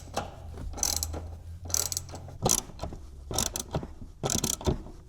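A ratchet with a 15mm socket loosens nuts under the seat of a 2005-2009 Ford Mustang, giving a series of close, crisp clicking bursts in a steady back-and-forth rhythm.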